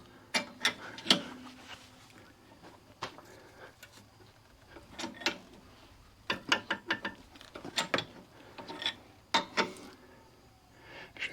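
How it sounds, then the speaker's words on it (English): A car jack is worked under a Mercedes ML350 W166 during front axle replacement, giving irregular clusters of metallic ratcheting clicks and clanks with quiet gaps between, close by and without talk. "now I just got to jack this up so that the sway bar link"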